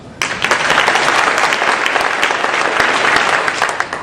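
A live comedy crowd at a mental-health stand-up show claps loudly and steadily for several seconds, a dense wash of many hands with a few sharper claps standing out, and no talking over it.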